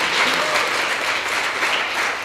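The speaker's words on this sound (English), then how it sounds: "so we can have a round of applause" An audience at a live conference session claps in a dense, sustained round of applause that stays steady and fairly loud throughout.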